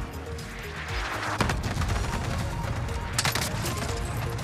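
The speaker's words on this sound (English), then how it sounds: "Oh, he just put an airstrike on our heads." An airstrike lands in Call of Duty Warzone, a rapid cluster of loud, booming explosions and crackling blasts rolling on continuously with heavy low rumble.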